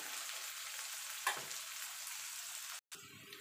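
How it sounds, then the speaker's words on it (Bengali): Onions fry lightly in a pan for a ridge gourd dish, a faint, steady sizzle with one brief stir near the middle and a short cut near the end. "পেঁয়াজটাকে একটুখানি ভাজা ভাজা করে নেব"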